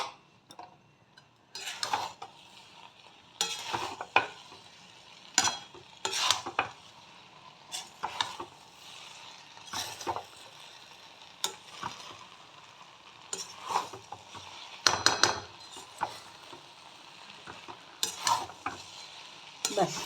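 Cooked rice mixed with ghee is stirred in a pan, producing repeated scraping and clattering strokes of a spoon against metal in irregular bursts over a quiet sizzle, with no speech.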